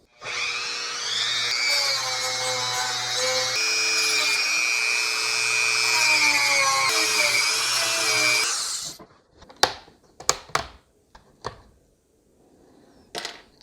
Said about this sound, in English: So I think I'm going to use my Dremel to cut this off.